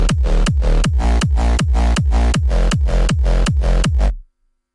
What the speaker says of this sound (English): So I've made a kick and bass with a sub simply,